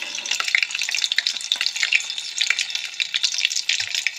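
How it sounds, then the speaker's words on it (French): Oil heats in a frying pan before sardines are fried, giving a steady, close crackling sizzle with fine pops and spits throughout. "Vous entendez le bruit? C'est l'huile qui monte en chauffe"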